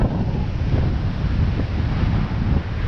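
Strong wind buffets the microphone on a remote beach, a continuous loud rushing roar with surf mixed in, no voices.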